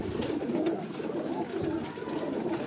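Teddy pigeons coo quietly on a rooftop at night, a low, murmuring burble repeating softly at moderate distance.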